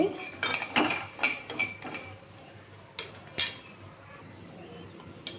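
Coriander seeds dry-roast in a small pan, stirred with a metal spoon that scrapes and clinks against the pan in quick, close taps, then slows to occasional clinks with no talking.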